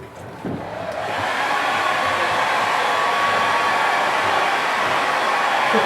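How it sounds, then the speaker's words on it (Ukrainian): A hair dryer switches on and blows in a steady, loud whoosh that holds without letup, with a faint whine running through it. "І феном також будемо сушити роботи."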